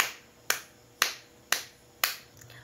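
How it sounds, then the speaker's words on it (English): A class claps together five times in an even, unhurried rhythm, each clap a sharp, crisp crack spaced about half a second apart. "Let us give ourselves 5 claps"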